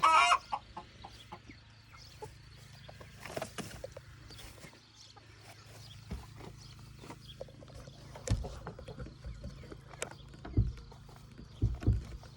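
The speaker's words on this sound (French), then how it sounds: "Une poule qui crie, est-ce que ça veut dire qu'elle a pondu un œuf?" A hen squawks and clucks in a chicken coop, with several sharp cries standing out over steady low rustling and background noise, with no talking.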